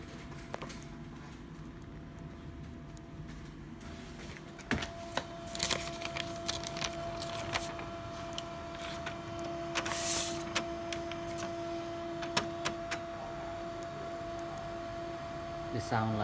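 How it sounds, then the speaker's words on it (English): An HP Color LaserJet M182-M185 series color laser printer hums steadily while calibrating, a constant mechanical drone broken by scattered clicks and brief whirring bursts as its internals move, with no voices. "The sound like this is the printer calibrate."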